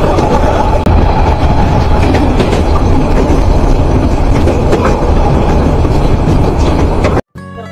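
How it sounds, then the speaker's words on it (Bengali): Probal Express passenger train rolling slowly on the Chattogram–Cox's Bazar line near Dulahazara, with a loud, steady rumble and rhythmic clickety-clack of wheels over rail joints throughout, cutting off abruptly near the end. "ডোলাহাজারা রেলওয়ে স্টেশন ছেড়ে ট্রেনটি অনেক স্লো করে দিয়েছে"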